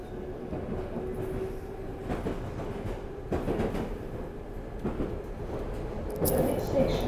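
A London Underground Piccadilly line train runs fast toward Acton Town, a steady rumble of wheels and carriage with periodic rail clacks and a sharper squeal near the end.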